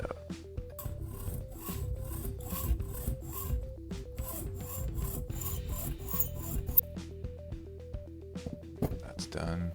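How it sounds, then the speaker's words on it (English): A hacksaw cuts through a cracked hard-shell plastic phone case clamped in a vise, making steady, close, rhythmic rasping strokes that continue for most of the clip. "Now we cut it out."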